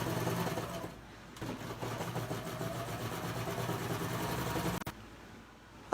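A Baby Lock serger stitches fabric with a curve foot in a fast, steady mechanical whir, pausing briefly before running on and stopping near the end, with no voices.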